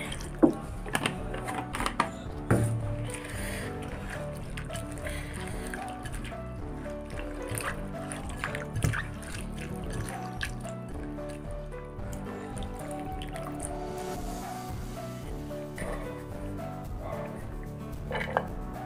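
Fresh tomatoes are rinsed in water for a tomato bharta, giving soft splashing, dripping and trickling sounds at low volume over about nineteen seconds, with occasional small knocks.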